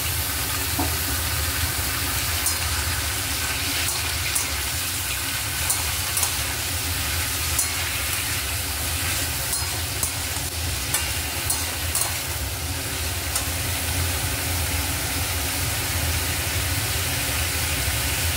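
Pumpkin pieces and potatoes fry in oil in a pan for a Bengali-style pumpkin dish, giving a steady loud sizzle with scraping stir strokes throughout.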